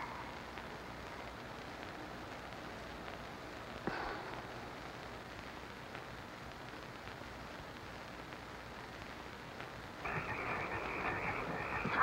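In the 1972 film Frogs, a dense bed of frogs croaks at a steady, moderate level, growing louder toward the end.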